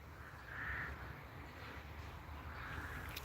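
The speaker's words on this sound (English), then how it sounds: "Listen to the birds." Crows caw outdoors in a quiet open setting, two faint, distant calls spaced a couple of seconds apart over soft background ambience.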